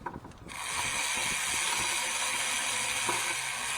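A ratchet tightens the thermostat housing bolt on a Dodge Caravan 3.6 V6 engine, giving a brief burst of close clicks followed by a steady mechanical whir.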